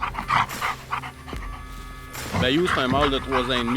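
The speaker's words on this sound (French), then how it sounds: "C'est un chien qui a beaucoup d'énergie." An energetic hunting dog, a three-and-a-half-year-old male trained for waterfowl hunting, pants in quick rhythmic breaths close by while someone speaks over it.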